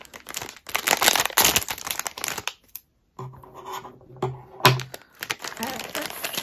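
Plastic packaging around Minecraft Backpack Buddies being cut open, with bursts of crinkling and rustling that stop for a brief silence, then a few smaller rubbing and tearing sounds close by.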